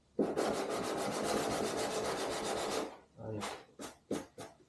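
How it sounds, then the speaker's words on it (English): Sandpaper rasps steadily against paint over a carbon surfboard ding, one long continuous scrubbing stroke followed by several shorter, sharper strokes, close and fairly loud, with a brief word spoken. "First of all, I'm going to sand it,"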